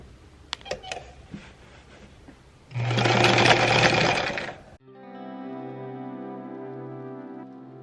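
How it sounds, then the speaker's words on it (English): A sewing machine stitching two fabric ends over foam, a close steady mechanical whir for about two seconds after a few clicks and taps, followed by a sustained tonal hum. "I sewed those two ends of the fabric"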